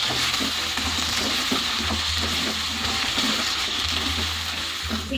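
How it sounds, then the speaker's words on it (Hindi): Sliced okra sizzling and frying in hot oil in a pan, a loud steady crackle with occasional stirring scrapes, no voices. "अब मैं इसमें भिंडी डाल के भिंडी को फ्राई करूँगी।"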